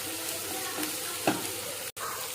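Chopped tomatoes sauté in a pan for a potato kootu, a steady soft sizzle running throughout at close range, broken by a faint stir and a brief scrape.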